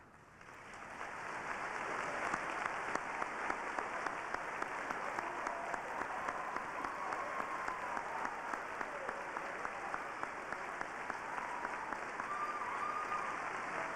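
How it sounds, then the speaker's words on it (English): At a high school graduation ceremony in 2001, the audience gives the staff sustained applause, a broad wash of many hands clapping in a large hall that rises quickly and holds steady for the full stretch. "would you please stand and receive our applause?"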